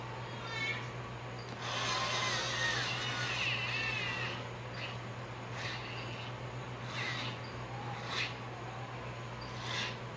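Gas regulator hose fitting tightened by hand on a home stove hookup: scattered metallic clicks and scrapes over a steady hiss of background noise, with no one talking.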